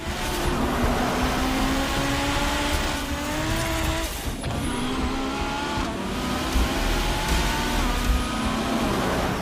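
Nissan Skyline GT-R R34 race cars in a street-racing film scene accelerate hard, engines climbing through repeated rising pitch sweeps over a dense, loud roar with brief dips between gear changes.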